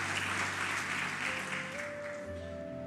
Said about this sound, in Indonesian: Kasih tepuk tangan paling meriah buat Tuhan Yesus